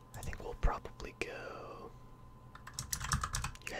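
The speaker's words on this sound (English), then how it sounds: "You guys can also get some keyboard sounds from this video." Fingers tap at a computer keyboard in quick, close clusters of light clicks, with bursts at the start and a busier run near the end, under a soft whispering voice.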